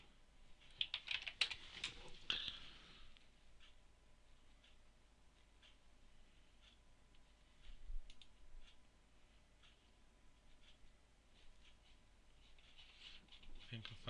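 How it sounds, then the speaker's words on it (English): Keys of a computer keyboard tapped in a quick burst near the start to enter a search, then scattered faint clicks, with quiet talking in the background. "Let's type it in."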